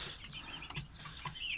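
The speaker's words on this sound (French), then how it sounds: "Donc ça c'est deux petits coqs." Two young roosters give soft, scattered clucks and chirps, fairly faint and close, with a few quick calls in a short burst and no talk.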